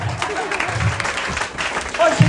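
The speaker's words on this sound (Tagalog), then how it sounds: "Palakpak muna sa Panginoon." A congregation at a church service applauds with uneven, moderately loud clapping, while voices and some talk can be heard mixed in among the claps.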